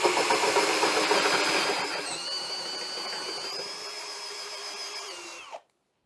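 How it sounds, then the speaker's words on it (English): A battery drill with a 25mm plug cutter bores into old oak, a loud steady whirring grind that eases slightly as the cut goes deeper, then stops abruptly into silence. "show you cutting a 25mm plug in this piece of old oak"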